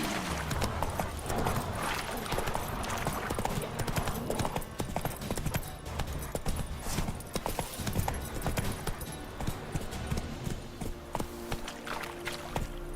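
The horse Roach gallops in The Witcher 3, its hooves clip-clopping in a fast, steady rhythm close by, with a faint voice briefly heard over the hoofbeats.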